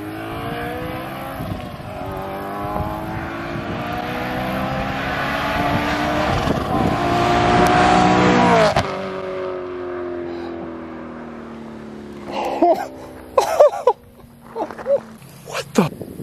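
A supercharged BMW M3 accelerates past with a loud rising exhaust and supercharger whine that swells, then cuts off abruptly, followed by quieter pops and thumps; people talk nearby.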